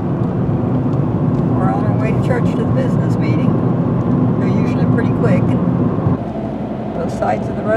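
A car driving along a smoothly paved road to church at dusk, with a loud, steady interior road rumble and engine drone throughout; a voice is heard speaking over it.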